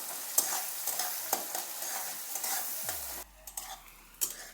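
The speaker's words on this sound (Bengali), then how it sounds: "এগুলো একটু ভালো করে ভেজে নেব।" Chopped onion and green chillies frying with fish in hot oil, a steady close sizzle with occasional stirring scrapes and clinks, no talk.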